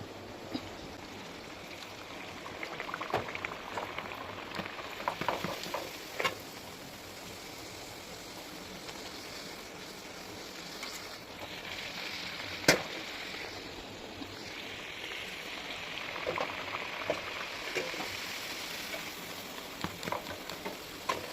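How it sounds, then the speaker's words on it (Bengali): Luchi, puffed wheat flatbreads, deep-frying in hot oil: a steady soft bubbling hiss with scattered small pops, fairly quiet and continuous, with no one talking. "এইভাবে আমি লুচিগুলো ভেজে নিই"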